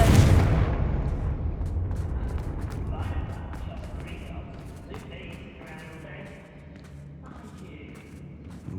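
The Confringo fire curse bursts in Hogwarts Legacy with a loud, deep explosion right at the start, then rumbles away into quieter crackling and scattered impacts over the next several seconds.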